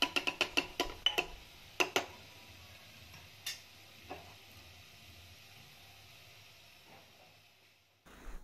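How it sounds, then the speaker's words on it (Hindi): Black chickpeas, potatoes and spices frying in a pan over a low flame, a faint soft sizzle beneath a quick series of sharp utensil taps and clinks early on that thin out to occasional knocks. "बिल्कुल लो फ्लेम पे हम इन सबको 5 मिनट तक फ्राई कर लेंगे ताकि मसाले अच्छे से पक जाएं।"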